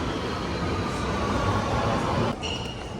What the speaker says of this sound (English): That's the train arriving.